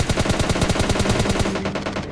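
Rapid automatic gunfire in the mobile game PUBG Mobile Lite: a loud, continuous stream of evenly spaced shots that barely lets up, with no talking.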